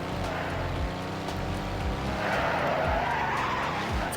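Van in the Roblox game Car Crushers drifting, tires skidding and squealing over a droning engine with rising and falling revs, fairly loud and continuous, with no talking.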